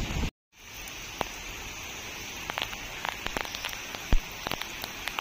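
Steady rain pattering outside a hilltop cave, a dense continuous hiss with scattered louder drips and splashes landing close by, running alone without voices.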